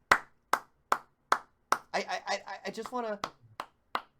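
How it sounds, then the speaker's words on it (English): A lone person claps hands in slow, evenly spaced sharp claps close to the mic, pausing while someone talks excitedly in the middle before the clapping resumes. "I just got to give them some applause, man"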